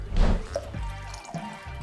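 Antica Formula sweet vermouth pours into a cocktail mixing glass, a steady close liquid stream with some dripping and glassy clinks over a noisy background.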